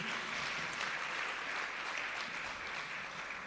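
Sustained applause from an audience at a rebranding and quality recognition ceremony, a steady dense wash of clapping that holds evenly throughout at moderate level with no talk.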